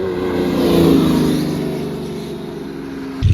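An orange Porsche 4.0 sports car drives past at a car week gathering, its engine a loud, steady roar that swells as it nears and then fades, with a sharp rise at the very end.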